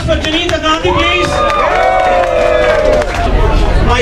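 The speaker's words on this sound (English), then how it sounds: "Can we have a round of applause for Junita Gandhi, please?" Cruise party audience at an Independence Day celebration cheering and applauding continuously, loud crowd noise with voices rising over it and a sustained wash of claps and shouts throughout.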